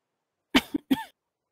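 Two short coughs, close and fairly loud, the second with a rougher throat-clearing tail, alone with no talking around them.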